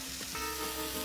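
Oil and chicken sizzle steadily as caramelized bits form on the bottom of a pot for green curry chicken, a close, continuous crackling hiss with faint stirring underneath.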